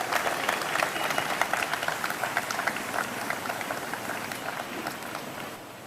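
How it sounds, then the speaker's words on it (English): Audience applause after court hours honouring the Chief Justice at a lecture on anti-defection and constitutional morality, a steady dense wash of many hands clapping that holds evenly through the clip and tapers slightly at the end. "May I request all our participants after court hours to give a very big round of applause to the Honorable the Chief Justice."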